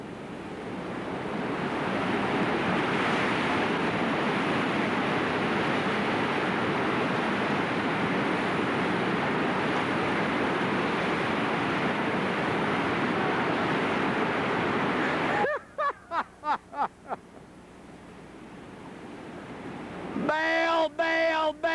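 River rapids rush with a dense, steady roar of water that fills the scene. Near the end, brief bursts of clattering and shouting voices cut through the flow.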